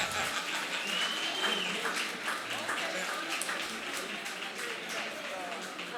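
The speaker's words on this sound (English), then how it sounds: "Let's give everybody a round of applause." Audience applause at a nonprofit awards night, a dense crowd of hands clapping steadily for several seconds while voices and cheering carry over it.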